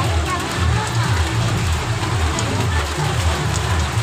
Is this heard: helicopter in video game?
no